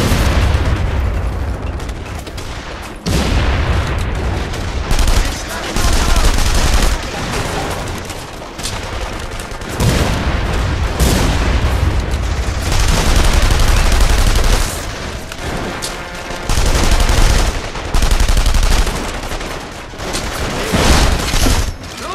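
Sustained game gunfire from The Saboteur: dense rapid fusillades of shots and machine-gun bursts with booming impacts, loud and continuous with brief lulls, faint shouted voices occasionally under the shooting.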